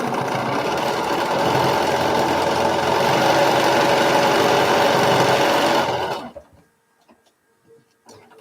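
A sewing machine runs steadily while piecing a Dear Jane quilt block, its loud continuous mechanical whir lasting about six seconds before stopping abruptly, followed by a few faint handling clicks.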